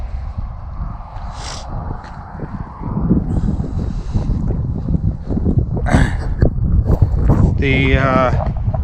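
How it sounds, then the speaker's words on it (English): Strong wind buffets the microphone during a motorcycle ride on highway 285 between Albuquerque and Roswell, New Mexico, a steady roaring rumble that swells louder midway, with a short voice-like tone near the end. "The wind was extremely strong coming down 285 here."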